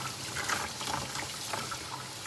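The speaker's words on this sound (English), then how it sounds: "I just give it a rinse, a straight up rinse, just like this" Water runs steadily over the roots of a tomato plant lifted from a hydroponic tower, a soft continuous trickle and splash close by with no talking.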